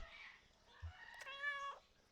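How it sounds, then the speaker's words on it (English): A single cat meows in a video game, one soft drawn-out call lasting under a second, faint against a quiet background. "Cat noise."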